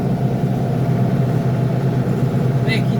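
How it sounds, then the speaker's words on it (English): A Massey Ferguson 590 tractor's engine runs at steady mowing revs in a field, a constant close drone with no change in pitch and a brief high chirp near the end. "making sure the tractor's at the right revs."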